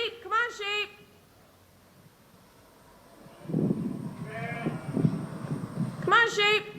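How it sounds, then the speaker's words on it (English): Sheep bleat at the start and again near the end, with a quieter bleating cluster in the middle, while a person calls out to the flock nearby between the cries. "Sheep, come on, sheep."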